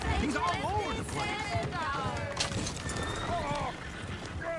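Horses clip-clop and neigh repeatedly in a busy, noisy scene, with whinnies rising over hoofbeats as people shout and talk.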